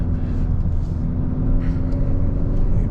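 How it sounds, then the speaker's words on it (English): A Hyundai Sonata N Line in Sport Plus mode, driven on winding roads in Orange County, gives a steady, close engine drone with deep low rumble and road noise throughout, no talking. "I'm sure you can hear the engine"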